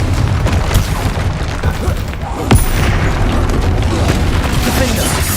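A Confringo fire spell in Hogwarts Legacy explodes amid a continuous, loud barrage of booming spell impacts, with one sharper burst partway through and voices in the mix.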